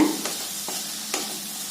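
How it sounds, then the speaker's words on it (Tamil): Coriander leaves and stems frying in oil as they are stirred, a soft continuous sizzle with a few light scraping strokes of the spoon close by. "சேர்த்திட்டு நல்லா வதக்கி விடுங்க"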